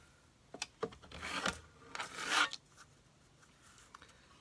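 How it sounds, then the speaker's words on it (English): Scissors cut a small figure out of black cardstock, with quiet, close rasping strokes in short bursts, two longer sweeps among a few brief snips, and no talking. "I'm going to cut out this little guy too"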